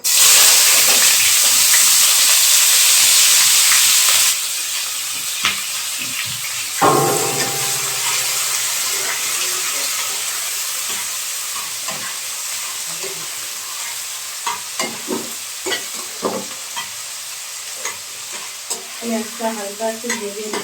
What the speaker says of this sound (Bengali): শুকনো লঙ্কা, পেঁয়াজটা দিয়ে দেবো